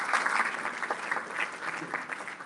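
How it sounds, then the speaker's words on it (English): Steady applause from an audience at a Latina leadership celebration honoring historical reenactors, dense clapping filling the room without pause, with a few voices mixed in. "Another round of applause to the reenactors."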